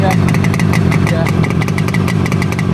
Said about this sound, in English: you can hear the wonderful sound of the two-stroke RD250